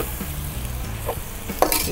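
Sheep blood stir-frying in a pan with turmeric powder, a steady close sizzle with scraping stirs and a brief clink of a utensil near the end.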